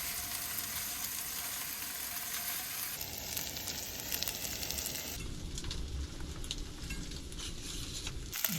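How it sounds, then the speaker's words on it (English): Sausages fry in a pan inside a camper van at the beach, giving a continuous close sizzle and spatter that shifts in tone as they are moved, with no talking. "Cooking up the sausages first, because we're not going to use all of them in this breakfast"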